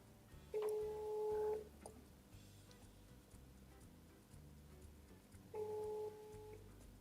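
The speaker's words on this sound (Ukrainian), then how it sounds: "Дзвінок іде, це вже добре." Telephone ringback tone on an outgoing call, two long tonal pulses several seconds apart, each about a second long, over faint background hum while waiting for someone to pick up.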